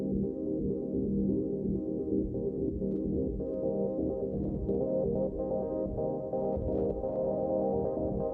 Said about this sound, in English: nice little arpeggiated type synth stuff, which is coming from the plates clone down here